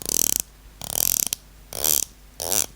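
The loose bezel of an Omega Seamaster watch is twisted in four separate bursts of rapid ratcheting clicks, close and crisp, with short pauses between them.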